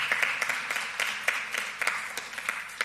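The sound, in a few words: audience applause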